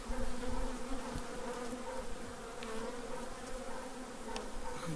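A late honeybee swarm buzzing steadily and continuously at the hive, a dense, even drone of many insects with a few faint clicks and no voices.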